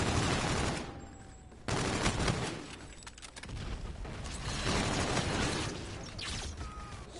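Sustained automatic gunfire in Call of Duty: Infinite Warfare, loud dense bursts of shots with mechanical clatter and a brief drop in intensity before the firing resumes, with no talking.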